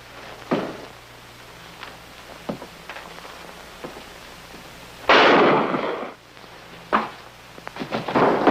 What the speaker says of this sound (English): I don't want to disturb the neighbors with the gunshots.